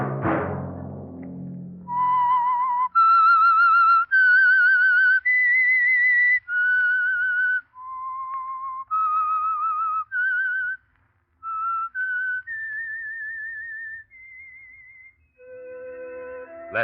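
A clear whistled melody of sustained notes moving up and down in pitch, with short gaps between phrases, loud and close, alone without talk, from a 1947 radio broadcast.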